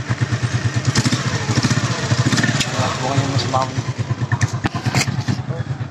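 A motorcycle engine putters close by with a fast, even pulsing beat, running steadily while people talk over it.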